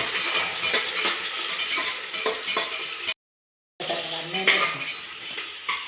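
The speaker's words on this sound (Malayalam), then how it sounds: "മിൽമ നെയ്യ് നന്നായി കാഞ്ഞിട്ട് അതിലേക്ക് ഇതാ ഉള്ളിയും കറിവേപ്പും ഞാൻ ഇടുന്നുണ്ട്" Onions and curry leaves frying in hot Milma ghee, a close sizzle with clinking spoon-on-pan stirring, briefly cut to silence midway before the sizzling and scraping resume.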